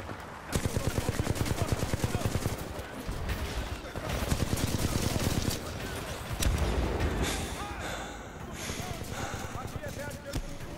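Enemy automatic gunfire in the shooter Titanfall 2, dense rapid bursts with sharp repeated cracks and ricochets, loud and near, with someone talking over parts of it.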